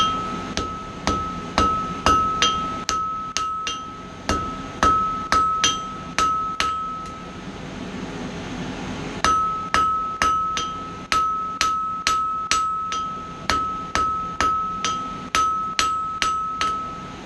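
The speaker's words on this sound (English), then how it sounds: "Taper this other end now." A hammer strikes a metal bottle opener to taper its end, giving a steady, close series of sharp, ringing metallic blows. The strikes pause briefly midway, then resume at the same brisk rhythm.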